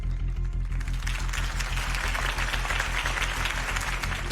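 A crowd in the Batman Telltale video game applauds a Harvey Dent campaign speech. The clapping is loud, sustained and dense, with no voices over it.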